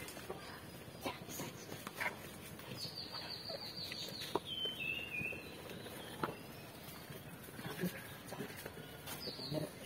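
Fowl clucking softly at a distance in an outdoor yard, scattered calls and rustling with a person speaking quietly at times, overall faint.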